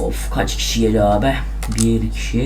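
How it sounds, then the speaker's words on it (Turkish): Computer keyboard keys clatter in quick bursts underneath two men's Turkish conversation during a video game, close and fairly steady. "Bu arada bu klavye sesinin çözümü bulacağım arkadaşlar."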